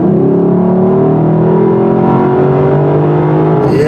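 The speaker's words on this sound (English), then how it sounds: "And this V8 engine's pretty quick too." A 2023 Lexus LC 500 V8 accelerates hard on a twisty road, engine note rising steadily in pitch through a gear, loud and close, then briefly cutting back near the end; no talking.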